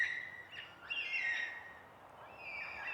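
Black cockatoos give a few high, drawn-out calls from a treetop area, faint and somewhat distant against a quiet background.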